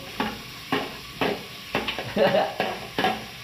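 Heaps of onions tossed into a hot pot for chicken tinola, giving a steady sizzle broken by repeated scraping stirs in an even rhythm, close and moderately loud.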